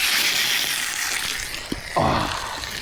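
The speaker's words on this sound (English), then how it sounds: "Got the steaks sizzling now." Steady hissing sizzle of steaks frying in a hot pan at a campsite, continuous and close, with a brief clatter partway through.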